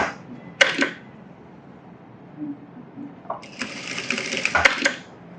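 A sewing machine puts two quick tack stitches into a blouse, heard as two short mechanical bursts, one brief and one longer, close by and moderately loud in a quiet room.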